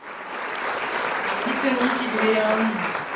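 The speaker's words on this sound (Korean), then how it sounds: "대표님 모실 때 큰 박수로 모시겠습니다" A gathered audience claps to welcome a speaker at a reading presentation, steady applause swelling gradually while a faint voice murmurs underneath.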